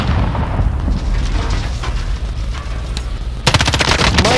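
Rapid M13 rifle fire in Call of Duty Warzone, sharp automatic bursts over a dense battlefield rumble, growing louder and more distinct in a fast volley near the end.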